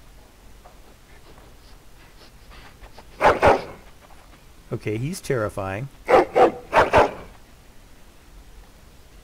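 Dog barking in the video game Dragon Age Origins, a few loud, close barks and growly yaps in short bursts, with someone talking over part of it.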